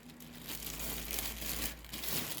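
A plastic freezer bag crinkles and rustles steadily up close as stuffed eggplants (karnıyarık) are packed into it for freezing, with a dense, crackling texture throughout.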